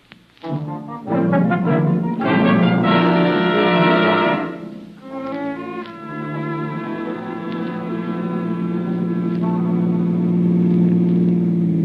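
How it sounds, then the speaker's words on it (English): Radio drama sound effect of a car driving past, a loud engine roar swelling and fading as it goes by, then settling into a steady low motor hum. "Hey, that car that just passed us, Annie."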